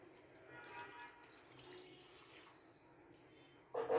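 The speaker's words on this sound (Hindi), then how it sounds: "अब हम इसके अंदर पानी ऐड करेंगे और पानी हम यहाँ पर ऐड करेंगे 2 कप" Two cups of water poured into a pan of wheat-flour halwa cooking in ghee, a steady rushing splash for about four seconds that ends in a louder, sharper burst. No one speaks.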